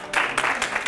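Studio audience applauding a guest arriving on a Senegalese entrepreneurship reality show, a dense wash of clapping in a few surging bursts under a short burst of indoor noise.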